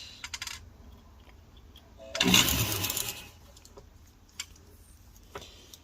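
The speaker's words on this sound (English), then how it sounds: "This is a buffing, rubber silicone buffing round." Rubber silicone buffing wheel grinding burrs off a spoon ring, a short rough burst of about a second rising over a quiet workshop background.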